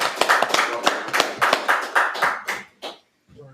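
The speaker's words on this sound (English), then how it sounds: "Let's go ahead and clap that up." A congregation at a Sabbath service claps after a scripture reading, giving loud, close, rhythmic handclaps for nearly three seconds before they stop abruptly.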